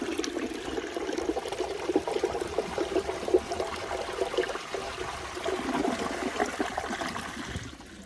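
A 2002 Crane Atlas toilet flushes nearby, a gurgling rush of water swirling and draining for several seconds before tapering off into a softer trickle.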